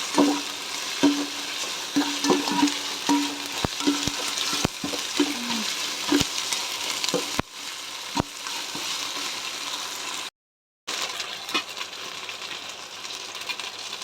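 Ginger-garlic paste sizzles in a pan for paneer curry while a spoon stirs it, a steady close frying hiss broken by occasional scraping clicks and one brief cutout.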